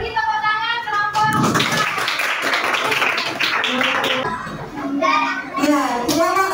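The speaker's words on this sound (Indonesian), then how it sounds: "Beri tepuk tangan kelompok." Schoolchildren in a primary classroom clap for a classmate group during a math lesson, a few seconds of lively, fairly close clapping mixed with children's chatter and voices throughout.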